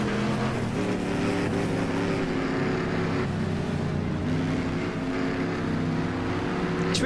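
Steady engine drone of a car driving along a track in Next Car Game, a sustained loud hum with layered tones rising and falling slightly, no talking.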